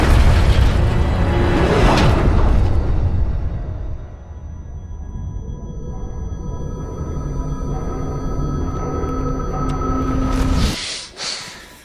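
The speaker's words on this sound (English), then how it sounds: "I'm going to have to make an emergency landing." A spaceship crash-lands in the Halo Infinite video game: a loud, deep rumbling boom with roaring debris and mechanical grinding that eases off and then swells again before cutting out abruptly.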